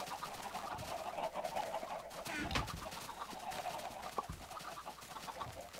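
Blocky Minecraft chickens keep up a busy stretch of clucking and cooing for several seconds, a constant chatter of overlapping bird calls without any talking.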